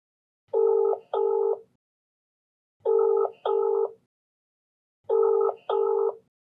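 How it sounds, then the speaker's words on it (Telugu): A telephone call being placed sounds three times as a pair of steady electronic ringing tones, each double tone followed by a pause, clear and alone with no voices. "సో ఒకసారి మీరు కాల్ చేస్తారండి."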